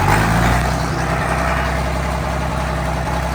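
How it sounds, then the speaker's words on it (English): A cold pulling tractor engine idles roughly while missing on one cylinder, a steady low rumble broken by irregular thumps and stumbles, close and loud with no voices. "Still a little cold. Missing on one. We'll let it warm up a little more."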